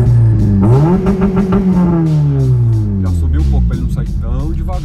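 A Honda Civic Si turbo engine revs hard on launch control, loud and close, its pitch climbing quickly, then holding in a sustained, strained drone that slowly sweeps back down across nearly five seconds.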